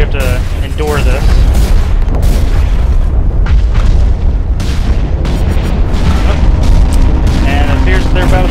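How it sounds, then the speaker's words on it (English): Battleship turrets firing on a base in the video game Hawken, heard as a loud, continuous barrage of booming blasts and rumbling explosions with a voice talking over them. "it appears that their battleship has a couple turrets that it's using to shoot at us"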